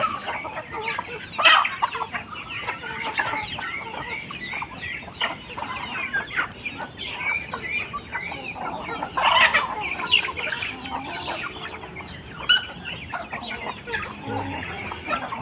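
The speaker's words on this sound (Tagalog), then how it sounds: "mga inahin natin ayan sama-sama na" Hens clucking continuously in a busy chorus, with several birds overlapping at close range and a steady background hiss.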